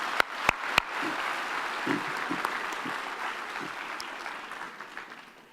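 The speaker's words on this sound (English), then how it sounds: "let them clap you one more time" Audience at a university graduation ceremony applauds steadily, a dense, even wash of clapping with a few sharp louder claps near the start that continues at a constant level throughout.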